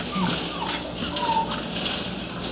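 Young puppies whimper and give small yips in close, overlapping bursts, with a thin high whine running through the brief stretch of sound.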